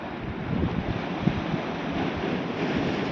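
Sea waves break on the shore along the Bapatla district coast, making a continuous washing roar mixed with wind buffeting the microphone, steady and fairly close.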